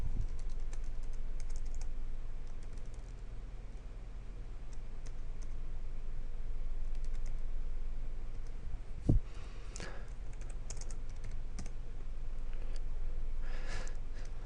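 Steady, close typing on a computer keyboard while a script is written, with irregular clusters of soft key clicks running throughout and a single sharper knock partway through, with no voices.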